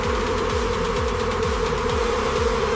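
Dense, steady buzzing of a swarm of bees around a giant wild jungle beehive, close and loud, with a continuous drone and rapid wingbeat texture running unbroken throughout.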